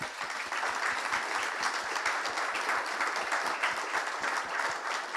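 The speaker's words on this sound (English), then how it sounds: "Let's give them a round of applause." Audience applauding panelists at a social housing retrofit event, a steady wash of many hands clapping that holds evenly loud for the whole stretch with no talk over it.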